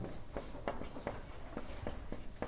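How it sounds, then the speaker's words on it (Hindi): Pen or marker strokes writing out a probability formula for a Class 10 maths problem, a quiet run of short scratchy strokes in uneven rhythm with no talking. "फिर से प्रोबेबिलिटी का सूत्र लिखेंगे"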